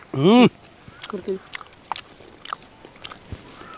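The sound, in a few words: person biting and chewing food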